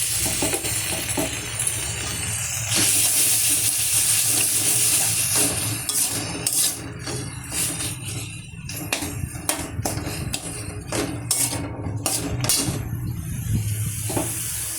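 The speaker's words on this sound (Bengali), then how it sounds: "আমি একটু গ্যাসটা জোরে দিলাম আর মশলাগুলো দিয়ে দিলাম" Spices sizzle in a pan of fried okra over a high gas flame, a loud continuous hiss broken by metallic clinks and scrapes of stirring, with no talking.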